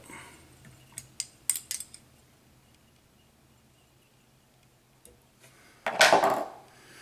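Thread is snipped with scissors while a fishing jig is tied at the vise, a few sharp clicks early on and a louder, closer cut near the end, with quiet between.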